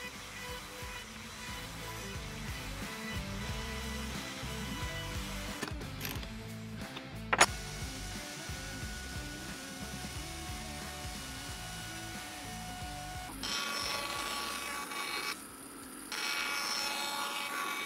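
A router rounds over the edges of wooden coffee table legs, giving a steady close motor whir with rough, rhythmic rubbing as the bit passes along the wood, a brief pause, and a sharper, louder stretch near the end.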